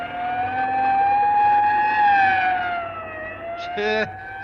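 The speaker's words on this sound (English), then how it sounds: "let that ambulance get past before it runs us down" A wailing siren sweeps steadily up and down, loud and close, then cuts off near the end with a brief horn-like blast over road noise.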